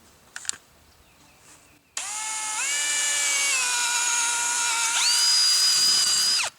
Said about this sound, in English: The next thing we need to do is drill a hole about a 1/4 inch in and right in the center of the one that we just cut off